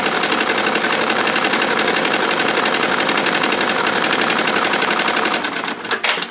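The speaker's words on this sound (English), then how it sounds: "we're also embroidering at about 700 RPMs. We're on a 15-needle SWF machine." A 15-needle SWF embroidery machine running at about 700 RPM while stitching a custom jacket, a steady loud mechanical chatter that continues for several seconds before slowing near the end.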